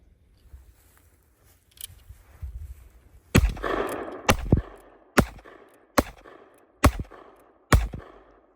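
Loud black powder revolver shots, a Cimarron Richards-Mason cartridge conversion of a cap-and-ball gun, fire one after another at roughly one-second intervals, six or seven sharp booming reports outdoors.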